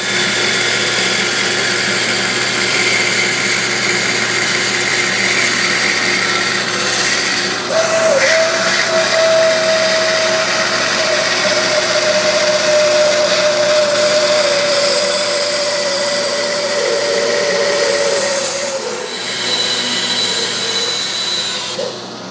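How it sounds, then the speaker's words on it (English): A bandsaw cuts a wooden step stool shape in a workshop, a steady droning machine noise with a thin whine running continuously and evenly for over twenty seconds, no voices. "I finally got the entire shape cut out on the bandsaw"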